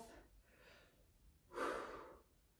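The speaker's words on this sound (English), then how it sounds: "Big breath" A deep breath drawn during a side stretch with the arm overhead, a soft inhale followed by a louder, fuller breath, close and clear with no talking.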